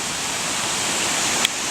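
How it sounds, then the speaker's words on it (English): A small waterfall spills over a flooded road after heavy flooding, giving a loud, steady rushing roar of water close by, with a tiny click near the end and no voices. "Here's a sick little waterfall here."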